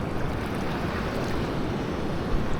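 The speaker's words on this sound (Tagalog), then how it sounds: "Yan, ulan yan. Ulan na may dalang hangin." Steady rushing noise of rain driven by gusting wind, continuous and fairly loud, buffeting the microphone, with no voices.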